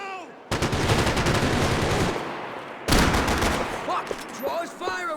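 Bursts of gunfire in the Max Payne 3 shooter, dense rattling automatic volleys in two long stretches broken by a brief pause, with shouted voices coming through near the end.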